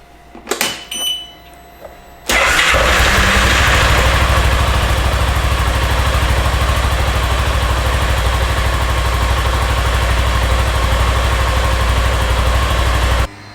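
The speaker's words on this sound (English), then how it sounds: "Now let's go ahead and start the vehicle and see how it runs." A Piaggio MP3 scooter engine, just fitted with a new spark plug, cranks after a couple of seconds of faint handling noise, then catches and settles into a loud, steady idle that runs unbroken to the end.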